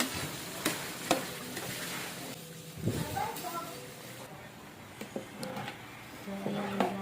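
Arroz caldo is stirred in a pan while being transferred to a pot, with soft scraping and occasional clinks of a utensil, a faint sizzle underneath; someone speaks briefly.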